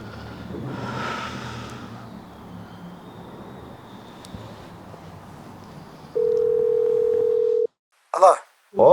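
A telephone dial tone sounds as one steady, unbroken hum for about a second and a half before a call. It follows a man's quiet speech and a low background murmur, and a short burst of sound comes right after it.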